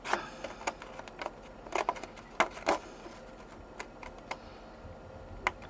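Paper being cut by hand with scissors or a blade while making a pop-up box with cubes, heard as a series of short, crisp snips and clicks close up, with irregular spacing and some slightly louder cuts.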